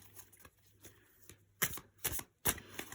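Tarot cards being shuffled before one is drawn: soft riffling patter at first, then three crisp, louder bursts of cards fluttering and snapping together, close by, with no talk.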